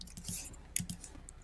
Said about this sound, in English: I can hear your little tapping fingers.